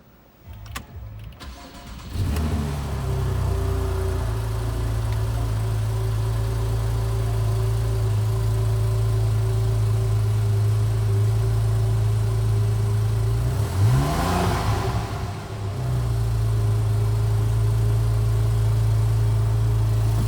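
A 2015 Porsche 911 4S coupe with a manual gearbox cranks and fires up, settles into a steady loud idle, then gives one sharp rev near the middle before returning to idle.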